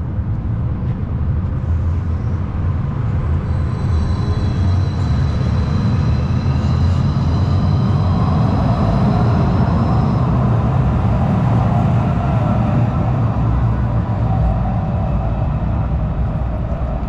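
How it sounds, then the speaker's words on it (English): A Calgary CTrain light rail train rolls past in downtown Calgary, a loud, sustained low rumble with a faint high whine lasting several seconds, with no voices. "We have another train here."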